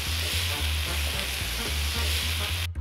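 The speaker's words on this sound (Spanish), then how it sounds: "Una vez que tenemos el salteado, agregamos las mini lentejas indiana." Sweet pepper, onion and zucchini with mini lentils sautéing in a pan, a loud continuous sizzle with soft rhythmic stirring scrapes, close and without talk.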